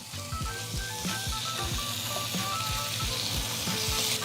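Bacon cut into one-inch pieces fries in a skillet, giving a steady close sizzle with scattered sharp pops and crackles throughout, and no voices over it.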